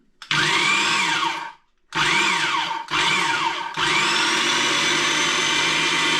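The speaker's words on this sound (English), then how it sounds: "Then the grinder sits on the blender base, and now the noisy bit." A blender with a grinder attachment whirs loudly in several bursts while grinding dried herbs, stopping briefly between pulses and then running steadily, its grinding pitch sweeping as the herbs break up.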